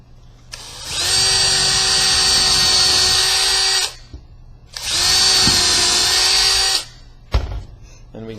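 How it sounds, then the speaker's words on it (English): A power drill bores a pilot hole for a screw in two sustained high-pitched whining runs of about three seconds each, close and loud, separated by a short pause and followed by a brief knock. "So this is the bit for the pilot hole."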